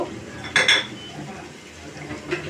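Spoon clinks and scrapes against a metal pan while spice paste fries for a fish curry with potato and eggplant, a brief loud scrape near the start and a lighter one near the end over faint background noise.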